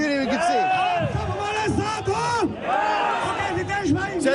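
A rowdy, passionate crowd at a Hindu community protest rally in Canada shouts and chants in loud, overlapping voices that rise and fall in waves, close by and without pause.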